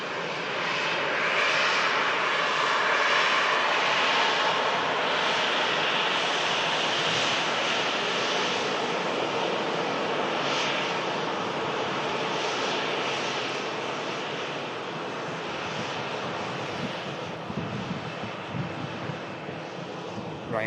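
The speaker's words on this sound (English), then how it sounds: "Another beautiful heavy touchdown on the horizon." Heavy Qatar jet airliner landing at an airport, a broad steady roar of engines and wind across the whole stretch, moderately loud and distant, fading slightly near the end.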